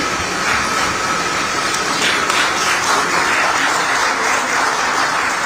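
Crowd applause welcoming Atishi's oath-taking ceremony as Delhi chief minister, a dense, steady wash of clapping that holds at an even level throughout, with no voices over it.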